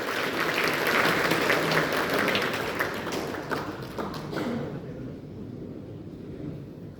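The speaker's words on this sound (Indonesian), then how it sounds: "Berikan aplaus dulu untuk beliau berdua" Applause for the regent and deputy regent fills a formal council inauguration session in Malang, a dense, steady clapping from a large audience that fades out after about four and a half seconds.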